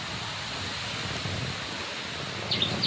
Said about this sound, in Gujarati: ત્યાં જોરદાર પવન આવે છે.